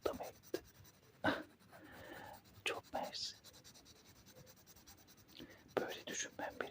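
Pencil drawing a charcoal portrait on paper, with close, soft scratchy strokes in short bursts and a faint whispering voice between them.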